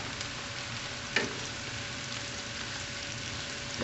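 Finely chopped mushrooms fry in a pan while being stirred, a steady soft sizzle with an occasional spoon scrape or tap, close and unbroken, no one speaking.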